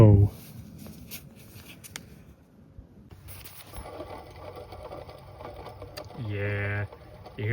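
With the serpentine belt removed, a faulty car alternator pulley spins with a rhythmic mechanical rattle and grind, loudest in a close burst near the end, amid handling noises and possible talk.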